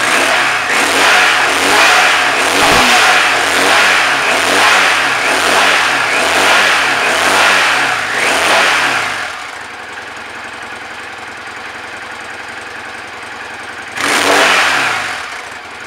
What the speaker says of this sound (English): I'm going to start up the bike and just to show you the sound difference